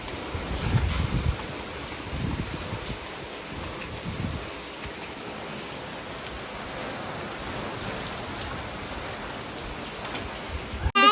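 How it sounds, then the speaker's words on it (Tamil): Light rain falls steadily on a rainy day in Goa, a soft, even hiss of drops on surfaces that holds from start to finish with no voices. "இப்போ வந்து மழை வந்து கொஞ்சம் லைட்டாக தான் இருக்குது, ஹெவியெல்லாம் எதுவும் இல்லை."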